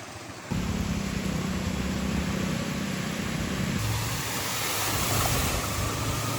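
Strong wind and heavy rain roar outdoors during flooding in Sri Lanka, a loud, continuous broadband rush that starts abruptly and carries on without letup.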